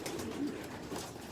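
Racing pigeons coo softly inside a loft housing young birds, a short low burbling call at close range in a quiet space.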